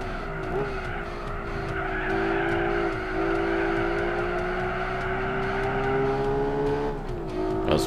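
A race car in Gran Turismo 4 brakes hard into a turn on a Tokyo circuit during the Polyphony Digital Cup, its tires squealing steadily for several seconds over a loud, droning engine note that shifts pitch near the end.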